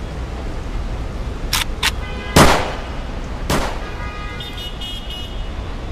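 A gunshot rings out as a sharp, loud crack in an otherwise quiet scene, preceded by a couple of brief clicks and followed by a second, fainter bang.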